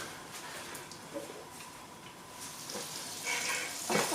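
Butter and oil sizzling in a frying pan while making easy chicken nuggets, a steady faint crackle with brief louder spits and stirring near the end, no talk.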